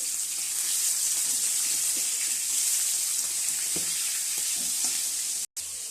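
Cumin and chili paste with a little Kashmiri chili frying in a pan, a close, loud continuous sizzle with a few soft stirring knocks, cutting out abruptly for a moment near the end.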